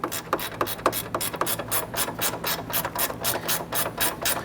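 Rapid, steady clicking from a ratchet snugging down the AC condenser bolts on a 1999-2004 Jeep Grand Cherokee, heard up close and unbroken for several seconds with no talking.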